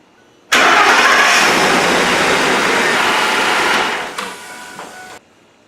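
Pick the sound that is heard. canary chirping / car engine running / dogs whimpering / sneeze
car engine running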